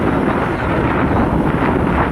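Strong wind roars at Muktinath in Mustang, buffeting the microphone in a dense, loud, unbroken rumble with no pauses or voices.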